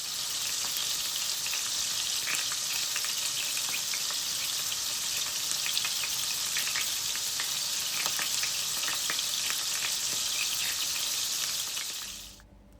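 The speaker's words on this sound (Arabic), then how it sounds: "حطيت شوية زيت في المقلى، ونزلت كرات اللحمة شوي شوي علشان ما يخرب شكلها" Meatballs frying in oil in a pan, a dense, steady close-up sizzle with small crackles and pops throughout, cutting off abruptly at the end.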